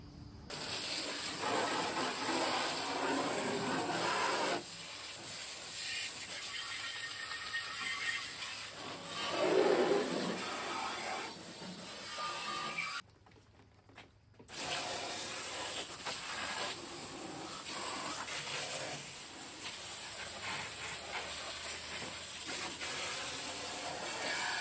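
A liquid mixture hisses and sprays steadily over an Arctic Cat snowmobile in a long, even gush that breaks off briefly near the end before resuming, close and without speech.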